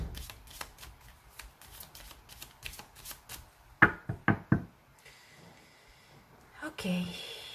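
A deck of tarot cards is shuffled close by, with a run of quick riffling flutters followed by several sharp taps of the deck on a table; a voice speaks faintly in the background.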